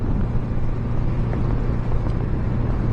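A 1982 Honda Goldwing 1100 motorcycle engine held at full throttle, a dense, steady roar heard from the saddle with heavy low rumble and wind noise throughout.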